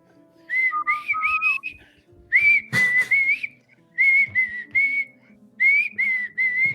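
A person whistles short, warbling phrases in repeated bursts to imitate a pony's call, close and clear with brief pauses between phrases.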